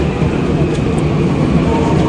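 A crowded subway train at about six in the evening rush hour rumbles on with a loud, steady low roar and hiss, and faint voices may sit under the noise.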